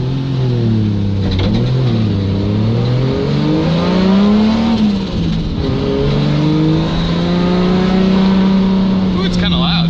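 A Nissan S13 with a swapped 1JZ engine drives loudly with windows down, the exhaust droning and rising and falling in pitch as it revs and shifts, with a voice speaking over it.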